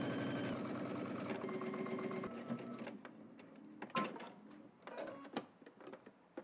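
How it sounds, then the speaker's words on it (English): A sewing machine runs in a steady rapid whir while stitching a sleeve seam, then slows into short bursts and clicks at moderate loudness. "just head to the machine and we're just gonna stitch this down all the way across"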